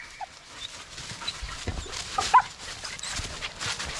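Ruger the dog vocalizes on command with a few short, soft whines or grumbles and one sharper yelp near the middle, close by and fairly quiet against a low background.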